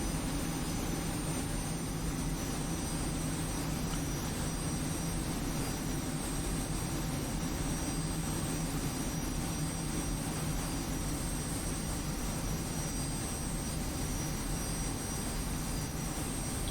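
F-86F Sabre jets in a video game fly with a steady, dense roar of turbine engines, continuous and unchanging throughout, with a faint high whine layered over the broad rumble.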